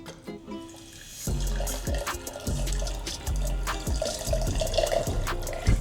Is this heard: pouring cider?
yes